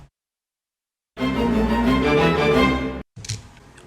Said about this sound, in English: a violin staccato bridge to chorus.